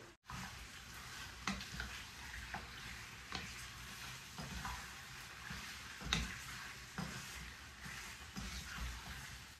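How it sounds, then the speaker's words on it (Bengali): Chicken fries in hot oil with a steady, close sizzle and crackle, broken by occasional stirring scrapes and spits through the whole stretch, with no voices. "আমি চিকেনটা একটু তেলে ফ্রাই করে নিই"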